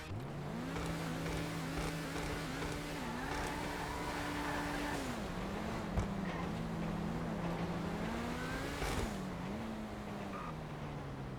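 Engine of a Grotti Turismo Classic car in the video game GTA Online, droning steadily at a near, loud level with rises and dips in revs and a sharp blip near the end, no talk over it.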